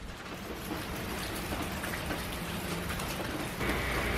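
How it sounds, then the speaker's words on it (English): Rain falls steadily on a gray December day, a dense, even hiss of drops on surfaces that swells slightly louder near the end, with no voices. "It's a bit of a rainy day today."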